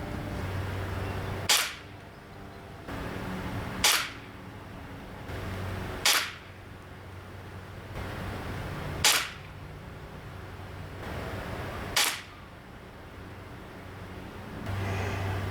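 Five sharp shots from a Crosman TR77 NPS .177 short-barrel tactical pellet rifle, spaced roughly two to three seconds apart, each a crisp snap over a low steady background hum.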